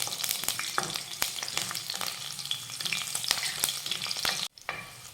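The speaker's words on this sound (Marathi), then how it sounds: "त्या घालूयात आणि ही मिरची परतून घेऊयात" Finely chopped green chillies sizzle and crackle in hot oil with curry leaves as a spoon stirs them around the pan, steady frying hiss with sharp scraping clicks, a brief break near the end.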